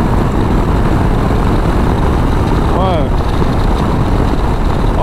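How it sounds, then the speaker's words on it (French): A Harley-Davidson Low Rider ST motorcycle engine accelerating to overtake drones loudly and constantly with heavy wind rush, while a voice briefly says a word partway through. "ça chante un peu aussi hein, au niveau du son de la moto"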